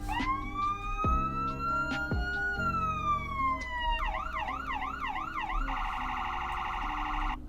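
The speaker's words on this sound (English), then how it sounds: "We also have the police lights and our sirens" Police car siren in the Roblox game Greenville, a loud in-game electronic siren cycling through several patterns, first a long rising and falling wail, then a rapid yelp, then a fast high warble, continuous and close.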